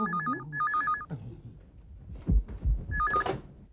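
An old-style telephone rings in short warbling bursts, two in quick succession, then a pause with thuds and movement, then another ring starting near the end.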